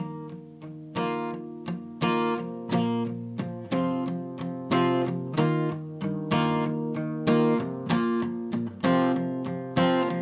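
Slow, steady down strums on an acoustic guitar, one chord stroke per beat, each ringing briefly before the next, with chord changes partway through.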